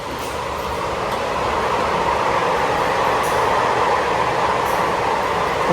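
Steady rumble and broadband roar inside a Taiwan MRT metro train, constant and fairly loud throughout, with faint rattles and no talking.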